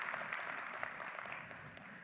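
An audience at a leadership training meeting breaks into steady applause, a dense, continuous patter of many hands heard from a moderate distance.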